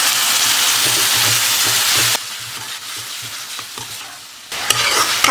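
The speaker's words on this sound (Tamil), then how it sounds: "தக்காளி நல்லா வதங்கணும்" Tomatoes sautéing in a pan for drumstick egg thokku, giving a steady close sizzle with stirring scrapes. The frying noise drops away partway through and then returns just as loud.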